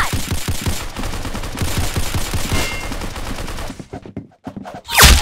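Rapid bursts of game gunfire in the Arsenal shooter, dense repeated shots filling the first four seconds, then a brief lull before one loud final blast, with a lively game soundtrack underneath.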